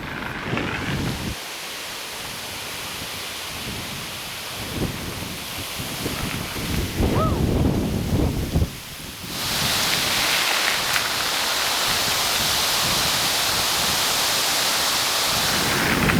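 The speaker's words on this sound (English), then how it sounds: "The wind is really starting to pick up now." Strong wind roars and buffets the microphone while cycling a trail, rising into a louder, sustained gust partway through, with rustling noise throughout.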